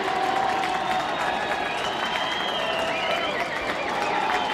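Spectators at a 2023 NCAA men's lacrosse game between Ohio State and Rutgers cheer and roar their approval, a steady, loud crowd din with scattered whistles and shouts running throughout.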